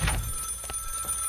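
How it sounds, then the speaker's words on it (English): A telephone rings inside the Contraband Police video game: a short, bright, electronic ringing burst that repeats at a steady rhythm, heard alone without talk. "Oh, the phone's ringing."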